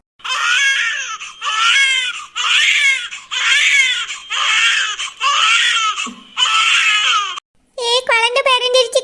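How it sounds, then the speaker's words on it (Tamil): A newborn baby cries in repeated loud, rising wails, about seven bursts with short breaths between, close by, ending with a brief high-pitched squeal. "குழந்தை அழுவுற சத்தம் கேட்டுச்சுல?"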